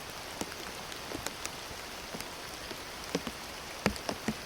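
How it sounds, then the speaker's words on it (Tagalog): Heavy rain falls steadily outdoors in a bamboo area, a constant wash of patter with scattered louder drops striking a nearby surface, with no voices. "malakas ng ulan"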